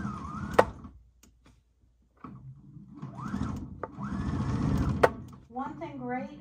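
A Husqvarna Viking sewing machine runs quietly in bursts, a soft steady whir starting and stopping between pauses, with someone talking over parts of it.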